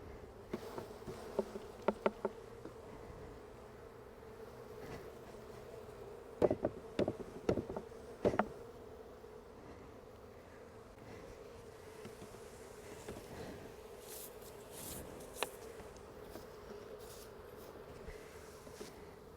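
Honeybees from a hive being split overnight with a queen excluder hum in a steady low drone, with a few sharp louder bursts as a frame is shaken over the hive box.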